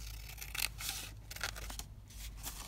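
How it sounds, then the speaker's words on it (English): Coffee-dyed paper trimmed with scissors, several close crisp cutting strokes in quick succession with short pauses, over a low steady hum. "this one, I'm going to just trim that down slightly"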